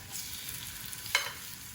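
Soft, steady sizzling from tuna searing in a very hot pan, with a brief brighter hiss partway through, faint and without voices.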